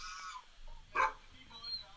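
A dog lets out a single loud, sharp bark near the middle, with faint talk and quieter background sounds around it.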